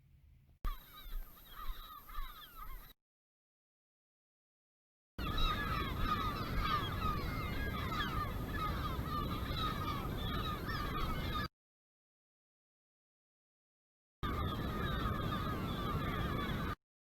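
Gull colony of thousands of seagulls calling, dense overlapping honking and squawking cries heard loud and close in three separate stretches broken by silence.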